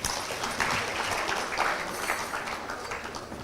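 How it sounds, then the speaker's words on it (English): Guests at a gala dinner clap for themselves in a steady round of applause, full and close, that fades slightly toward the end, with a voice faintly in the mix. "Clap for yourselves."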